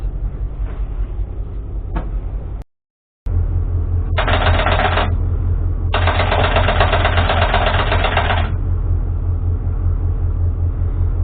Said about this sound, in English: we got telegraphing with the Gen Start cert relay